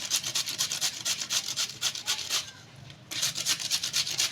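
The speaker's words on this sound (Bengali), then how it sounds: "শশাটা আমি খোসা ছাড়িয়ে নিয়েছি এটাও আমি গেট করে নিচ্ছি" A peeled cucumber rubbed against a kitchen grater in steady, rapid rasping strokes, close and even, with a brief pause before the scraping resumes.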